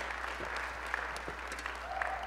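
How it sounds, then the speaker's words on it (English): A live audience gives a round of applause at a church gathering, a steady wash of clapping at moderate distance lasting a couple of seconds with no voices over it. "So if we could give just like a round of applause already for Jim, that would be fantastic."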